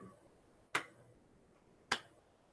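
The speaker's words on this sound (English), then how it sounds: "Clap." Two crisp, separate claps sound about a second apart, close and dry in a quiet room, with nothing else around them.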